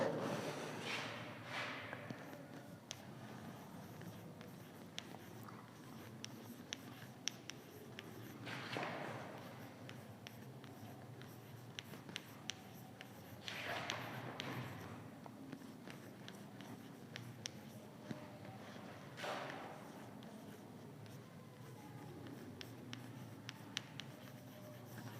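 A pen writing a definition by hand during a class lesson, producing soft continuous scratching with a few louder strokes repeating every several seconds, faint and close, with no talking.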